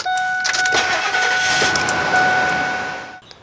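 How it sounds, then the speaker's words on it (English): A 2001 Ford F150 starts up with a loud cranking catch into a steady engine run close by, with a faint whine present. It cuts off at the end. "start the vehicle"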